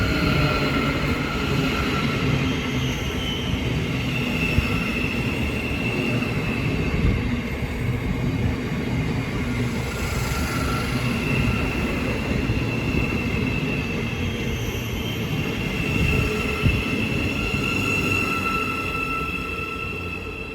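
A Class 700 Thameslink train, unit 700 052, on the King's Cross to Cambridge service rumbles past at Hitchin on the East Coast Main Line, a loud sustained roar of wheels and motors with faint tonal whines running throughout.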